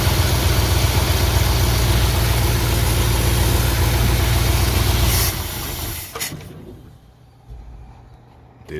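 A 1970 Dodge Charger's 318 V8 idles with a loud, steady low rumble for about five seconds, then cuts away sharply to quieter, uneven background sound.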